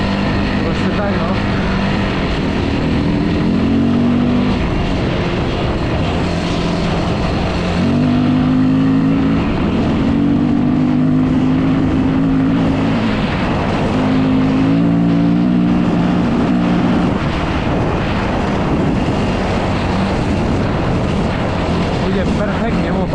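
A Yamaha WR450F dirt bike, ridden on its first outing of the season after a repair, gives a loud continuous engine drone that rises and falls in pitch with throttle changes as it rides, with wind noise over it.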